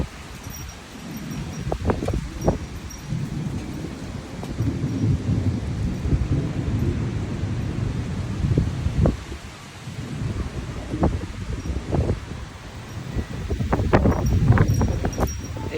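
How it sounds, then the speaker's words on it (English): Strong wind roars steadily through a nighttime thunderstorm in Oklahoma, with deep thunder rumbling and rolling across several surges, leaves rustling and rain hissing in the background, with no voices. "how bad the wind really is, but maybe you guys can hear it."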